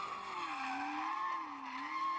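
Tires squeal in a sustained, wavering screech as a car drifts, the pitch rising and falling smoothly over a faint engine hum, with no talk.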